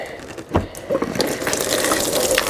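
Antifreeze gushing out of a released top radiator hose on a 2006 Mini Cooper JCW, a steady, close liquid pour that builds after a short splash and keeps running without letup.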